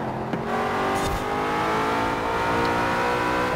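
A car engine drones through a drive in the racing game Forza Horizon 4, holding a steady, sustained tone with no talking over it.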